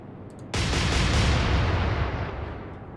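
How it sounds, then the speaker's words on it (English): Warship main guns fire in the naval combat game Atlantic Fleet, a sudden loud booming blast that rolls on as a long, dense roar and slowly fades over a few seconds, with no voices. "Let's fire our guns."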